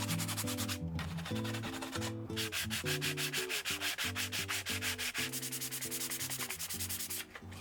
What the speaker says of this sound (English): then you sand it down with some high grit sandpaper. So I think I'm using 160 grit here